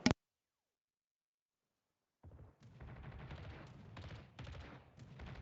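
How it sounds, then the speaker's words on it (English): Naval gunfire salvos in a World of Warships match: a sharp single boom, a pause, then a sustained, dense rumble of repeated cannon fire with several louder bursts, no speech. "Drix now being shot at by Peyton as well."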